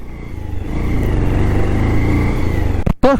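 A motorbike engine hums steadily and close while riding through forest, with a short burst of other noise at the end.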